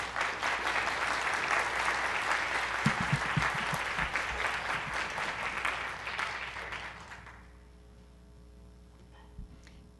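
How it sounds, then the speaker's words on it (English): A large conference audience claps steadily for several seconds, a dense sustained wash of applause that fades out and gives way to a quiet room. "let's give them both a big round of applause"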